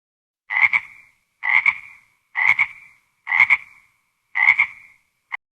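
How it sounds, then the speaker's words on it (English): Little pond frog croaking in five evenly spaced bursts, each a short raspy throb, close and clear with silence between, followed by a brief final click. "Little frog."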